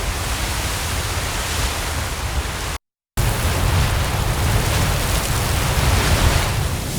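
A Yellowstone geyser erupting in a field recording, a loud, dense, white-noise roar that holds steady throughout, broken once by a short gap.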